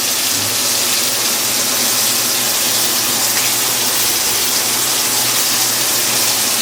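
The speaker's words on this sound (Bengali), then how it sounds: "এখন আমি এর মধ্যে কিছু পেঁয়াজ দিয়ে দেবো" Chopped onions hit a hot pan while cooking prawns with pointed gourd, setting off a loud, continuous sizzling hiss that stays even throughout with no voices.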